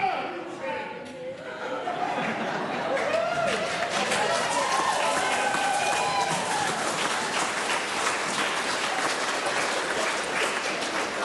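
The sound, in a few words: gallery applauding in parliament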